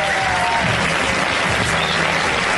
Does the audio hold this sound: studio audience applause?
yes